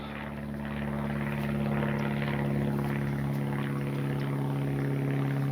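An E-flite 64mm Viper RC electric ducted-fan jet comes in to land, its steady whining drone building slightly and then holding level, loud and continuous, without any talk.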